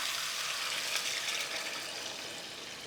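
Water poured into a cooking pot holding ribs and garlic for Thai soup, a steady bright rushing splash close by that holds for about three seconds without talk.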